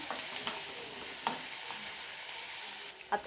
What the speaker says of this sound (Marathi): मऊ होईपर्यंत चांगला परतून घ्यायचा आहे कांदा